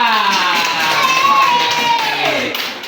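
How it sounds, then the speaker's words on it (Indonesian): A class of students claps and cheers for a classmate named Hasan, a busy burst of hand claps and shouts that swells and then trails off near the end. "tepuk tangan buat Hasan"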